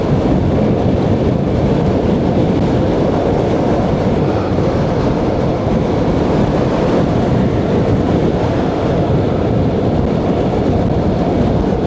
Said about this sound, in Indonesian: Anginnya ganas.